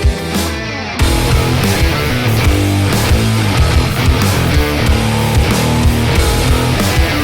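A dense, loud rap metal track from the 90s, with heavy distorted guitar riffs and pounding drums driving a steady rhythm from start to finish, with no vocals.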